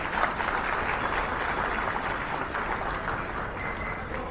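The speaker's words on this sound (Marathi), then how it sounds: "त्या महिलांसाठी जोरात टाळ्या होऊ द्या" A crowd claps loudly for women firefighters during a public speech. The applause is a thick, sustained roar of hands that stays even throughout, with no voices over it.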